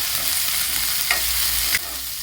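Carrots and sweet corn frying in a pan, a steady sizzle broken by two quick scraping stirs, close and with no one talking.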